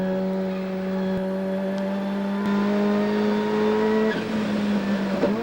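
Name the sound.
race car engine at race speed, 1991 Bathurst 1000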